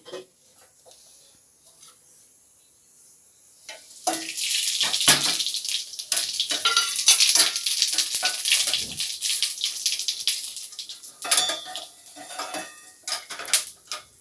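Cumin seeds tossed into hot oil in a kadhai while cooking kadhai chicken set off a loud, steady crackling sizzle that begins a few seconds in after near silence and carries on with scattered metallic pan clinks.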